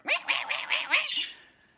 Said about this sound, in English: the birds start to do that angry chirp